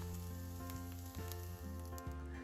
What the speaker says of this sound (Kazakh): оның үстіне тауық етін салып, оны да қуырамыз